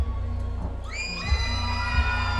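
A crowd cheering and shouting at a cage-fighting event, a dense, loud roar of voices rising with whoops and a couple of thumps, heard alongside steady music.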